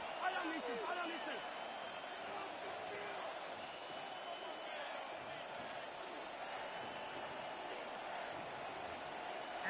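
Stadium crowd noise from the Madden 26 football video game, Chiefs versus Bills, during a red-zone goal-line play: a dense, steady roar that holds loud across the whole stretch, with a commentator's voice talking over it.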